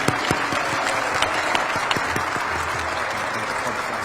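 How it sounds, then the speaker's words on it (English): Applause from an audience at a military annual awards ceremony, dense steady clapping throughout with individual claps standing out near the front. "So how about a round of applause, please?"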